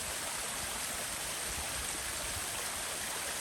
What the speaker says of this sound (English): Oh, that's a pretty little waterfall.